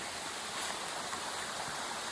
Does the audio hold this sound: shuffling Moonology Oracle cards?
no